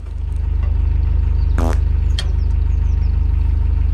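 A narrowboat diesel engine idles close by with a loud, steady low thump while the oil warms up; a short squeak and a sharp click cut through briefly.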